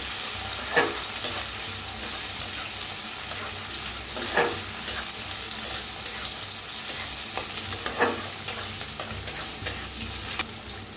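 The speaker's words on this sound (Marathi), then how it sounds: "त्याच्यात टाकायचं टमाटर, कांदा छान असा भाजून घेऊया" Tomato and onion fry in oil with coriander in a pan while a spoon stirs, a continuous loud sizzle broken by repeated scraping strokes, close by with no voices.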